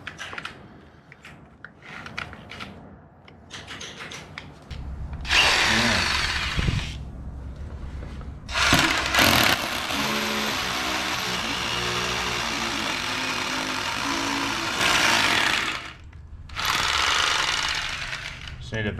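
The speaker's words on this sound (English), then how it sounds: "I fitted the drill bit to the drill." Several loud bursts of an electric drill boring a hole during a garage two-post car lift installation, each running for a few seconds with a harsh, rattling grind, separated by short quieter pauses with some background noise.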